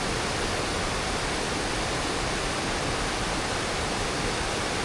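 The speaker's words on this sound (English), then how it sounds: "Wow, that's running fast." A swollen mountain creek rushing fast after heavy rain, a loud, dense, unbroken roar of water that fills the whole few seconds with no voices.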